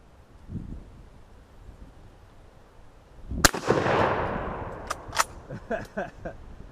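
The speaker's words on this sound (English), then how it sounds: "let's go ahead and just fire a couple of rounds into the motor of that fan" Gunshots fired into the motor of a dusty old barn fan: after a quiet, windy stretch, a sharp loud crack is followed by a noisy burst and several more crisp impacts and rattles against wind noise outdoors.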